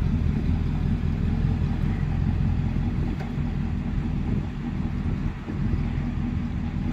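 A 1983 Chevrolet S10 show truck with a V8 engine driving slowly, a steady low rumble close by with no talk.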